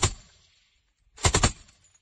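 Soldiers of the Kalinoŭski Regiment firing machine guns at Russian positions in Ukraine, a loud close burst at the start, a pause, then a rapid string of four or five shots ringing out.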